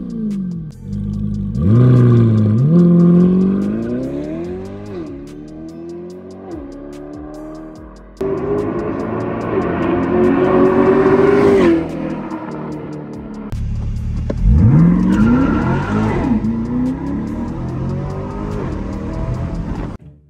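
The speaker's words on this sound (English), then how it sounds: "we've installed an aftermarket exhaust on it. Muffler." A lowered car with an aftermarket exhaust and muffler revs and pulls away close by, its engine note rising and falling in repeated surges before trailing off.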